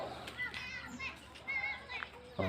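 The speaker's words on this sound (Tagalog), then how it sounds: "Pakinggan yung mga bata." Children play and shout outdoors at a neighborhood hangout, their high voices overlapping in lively chatter at a moderate distance.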